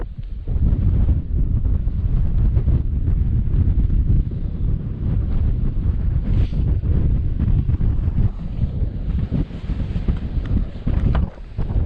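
Strong, freezing wind on a mountain summit in Assynt, a heavy low roar with gusts battering the microphone continuously, loud and close, with no talking.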